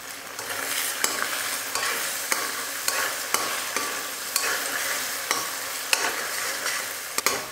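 Eggs fry in hot oil for kothu parotta (egg parotta) with a steady, loud sizzle, while a metal spatula scrapes and clanks against the pan in a regular beat about twice a second.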